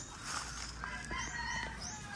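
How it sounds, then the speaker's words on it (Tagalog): A rooster handled among broodcock chickens gives short clucking and crowing calls over a steady background hum, with a faint flutter of wings, close and fairly quiet. "So kuhanin natin yung tandang."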